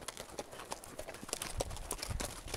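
Ridden horse's hooves clip-clop at a steady walking rhythm, close and moderately soft, with faint background rustle and no clear talk.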